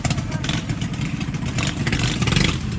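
A mini bike's small engine runs close by with a steady buzzing, rattling drone that pulses slightly as the throttle shifts, and a voice talks over it.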